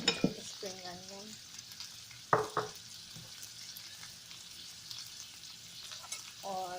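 Boiled chicken and vegetables are stir-fried in a pan, giving a soft continuous sizzle with a few scraping stirs and clinks; it is close but quiet, and brief voice fragments are heard.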